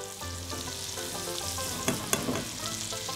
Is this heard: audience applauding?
no